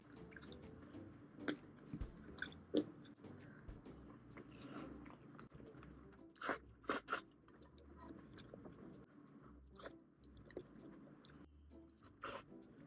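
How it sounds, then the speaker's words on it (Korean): Close, quiet chewing of sausages that pop as they are bitten, with soft wet squishes and sharper crunchy bursts spaced irregularly over steady low background noise. "그래도 씹을 때마다 소세지가 터지니까 맛있다."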